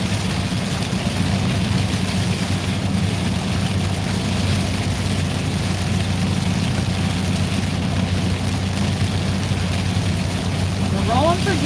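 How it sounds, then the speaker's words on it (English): Loud rain falls continuously, a dense and unbroken hiss with a low rumbling drone underneath that stays steady throughout. "That rain is loud."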